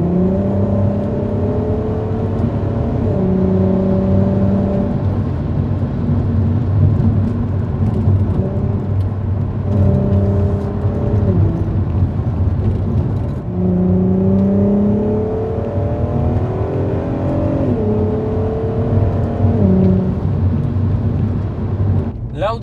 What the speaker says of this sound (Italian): il bellissimo sound che riempie l'abitacolo fa quasi dimenticare i consumi